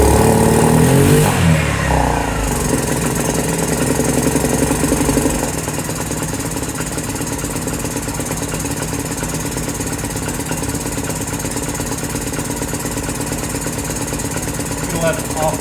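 A Lance Cali Classic 125cc scooter engine revs hard on the throttle, then drops into a steady, buzzy, slightly knocking run that continues close and loud.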